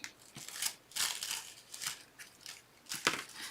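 Scissors cut through printed paper for a craft frame, a faint close run of crisp snipping and rustling strokes in uneven bursts.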